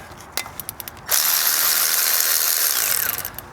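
Ratchet wrench loosening 10 mm transmission filter bolts: a few sharp separate clicks, then a second of fast continuous ratcheting whir, close and clear.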